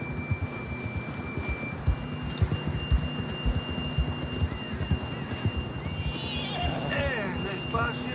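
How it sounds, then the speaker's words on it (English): A horse in Red Dead Redemption 2 trots with steady clip-clopping hooves under game dialogue and ambient tones, then gives a loud whinnying neigh near the end. "John was riding that horse when we left Blackwater"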